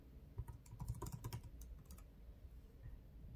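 Quick, quiet key taps on a MacBook Pro 16 keyboard as a password goes in, a short irregular burst of clicks followed by faint room tone.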